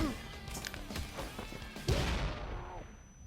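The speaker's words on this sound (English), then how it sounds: "Like this guy, I kill him with the pistol." Pistol fire from an enemy being killed in the shooter game Wanted: Dead, with several sharp cracks and impacts in a busy mix of game effects, followed by a louder hit near the end.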